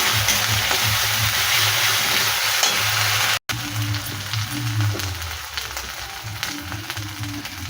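Steady, crackling sizzle of ginger-garlic paste frying in a pan, continuous and close, with a brief cut partway through.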